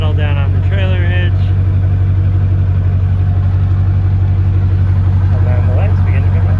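RV leveling legs retracting with a loud, steady motorized drone and low hum running throughout, while a person talks over it.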